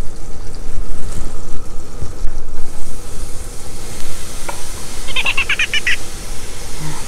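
Butter sizzling in a pan, a steady frying hiss throughout with a few faint clinks and a brief chirpy tone near the end, no talk.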